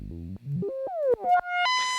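A modular synth square wave run through a Falistri in transient mode, a short, loud sequence of stepping and sliding electronic tones that climb in pitch, ending in a bright buzzy sustained note.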